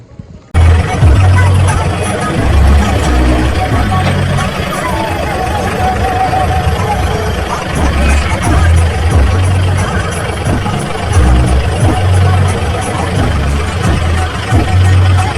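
A tractor engine starts and runs on a rural road in Punjab, a loud low rumbling drone with a steady throb, with people talking over it.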